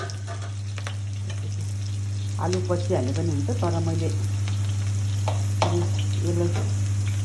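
Aloe vera and potato fry in a pan with a constant sizzle and occasional stirring scrapes, while a person speaks briefly over the cooking and a low steady hum runs underneath.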